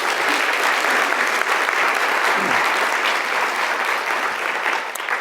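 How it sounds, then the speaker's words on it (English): Sustained audience applause fills a hall at a California Community Colleges address, a dense, even wash of many hands clapping at steady loudness throughout. "give them another round of applause for their work"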